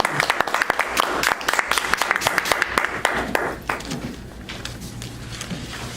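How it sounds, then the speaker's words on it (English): A room of Toastmasters club members applauding an evaluator, brisk clapping from a modest crowd that thins out and fades after about four seconds into quiet room noise. "Let's give him a round of applause."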